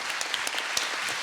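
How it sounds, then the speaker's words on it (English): A seminar audience gives a short burst of applause, steady dense clapping filling the room for about a second. "can I have a round of applause?"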